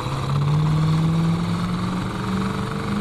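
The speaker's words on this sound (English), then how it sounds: "Listen to that exhaust again." A 1967 Pontiac GTO with a four-barrel carburetor idles close by, its exhaust a loud, steady, deep rumble that holds even throughout.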